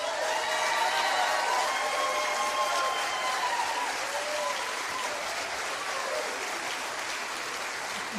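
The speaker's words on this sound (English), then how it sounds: "So let's get our clap on right quick" Sustained applause from an audience, a dense steady patter of many hands clapping at moderate distance for several seconds without a break.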